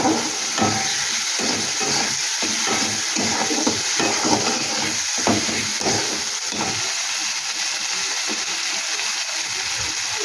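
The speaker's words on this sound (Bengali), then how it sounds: "এবার মশলাটাকে আমি ভালো করে কষিয়ে দিই" Spice paste with tomato fries in a pan with a loud continuous sizzle, while a utensil stirs and scrapes in a quick rhythmic series of strokes that fade out after about seven seconds.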